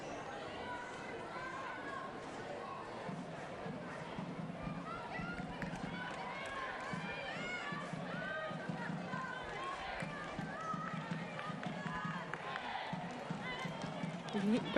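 A steady, distant roar of a football crowd at Leichhardt Oval during an A-League night match between Wellington Phoenix and Central Coast. Murmur and chatter run continuously beneath a commentator's voice.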